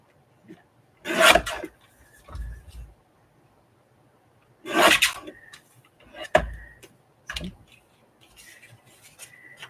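Paper being trimmed for a black-and-white Dalmatian journal page with red corners, heard as a few brief, close rasping swipes separated by quiet pauses.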